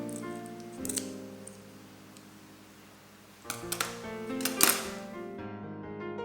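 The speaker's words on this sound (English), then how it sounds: "Now insert the scissors between the head and the body and cut along the top." Scissors snipping along the top of a raw prawn's shell between head and body in a home kitchen, a few crisp clicks and crunches close up, with a quiet stretch between cuts and no talking.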